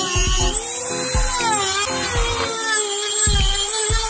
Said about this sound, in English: Now I'm gonna use a Dremel to cut a small notch on that same piece of wood.